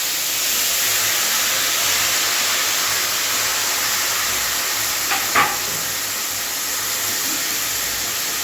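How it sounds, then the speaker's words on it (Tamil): Chopped tomatoes sizzle in a hot pan as home-cooked tomato gravy for rice: a steady, bright hiss fills the scene, with a faint clink of a utensil partway through. "இப்போ அரிஞ்சு வச்சுருக்கிற தக்காளி பழம் இருக்கும், இதை அதில் போட்டுக்கலாம்."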